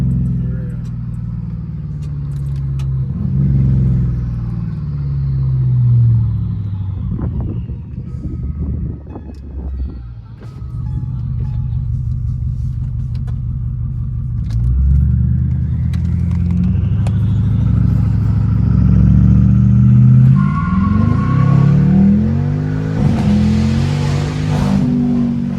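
BMW 550i fitted with catless downpipes and straight pipes, its engine rumbling and revving through repeated rises and falls from inside the cabin, loud and close, building to a harder rev near the end.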